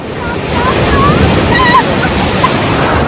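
Ocean waves break and wash onto a sea beach at a resort in Tajpur, a loud, continuous roar of surf with wind buffeting the microphone and no clear talking.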